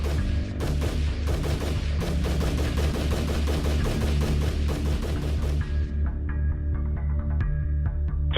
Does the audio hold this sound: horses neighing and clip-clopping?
no